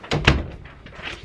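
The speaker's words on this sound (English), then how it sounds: "Close this door." Door being closed in a recording booth setting, a couple of quick close thumps followed by faint handling rustle.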